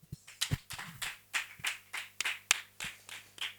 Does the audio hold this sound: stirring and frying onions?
no